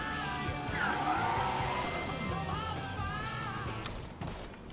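A car in Mafia 3 drives and pulls in to park, its engine running steadily up close with a brief tire squeal, and a voice speaking over it.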